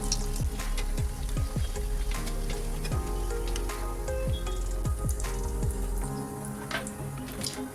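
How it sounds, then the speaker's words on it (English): Potato-filled batata vadas fry in hot oil, a steady crackling sizzle with fine popping bubbles and occasional dull thuds, close and continuous, no talking. "I'll fry the next batch."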